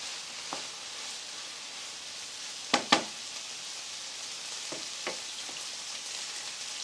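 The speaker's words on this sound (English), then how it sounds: "with the courgettes in this pan, you want to see them start to brown before you take them out" Courgettes frying in a pan, giving a steady, moderate sizzle throughout with a few sharper crackles and pops; no one speaks.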